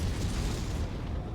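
An incoming artillery missile strike in MechWarrior 5: Mercenaries, a dense roaring blast and rumbling wash that fills the whole moment, loud and sustained, easing slightly at the end.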